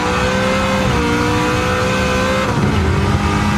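A Stielow Engineering Red Devil Camaro race car roars loudly and close on track, its engine note blipping and dropping through downshifts amid dense, gritty mechanical noise.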